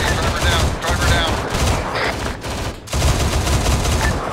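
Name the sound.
gunfire in a video game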